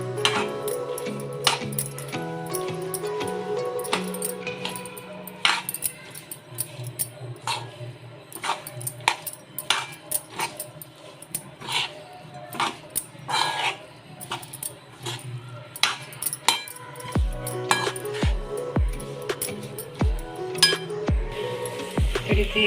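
A spoon stirs grated nutmeg and homemade ghee in a bowl for coconut neuri filling, making a close, irregular run of bright metallic clinks and taps that continues steadily.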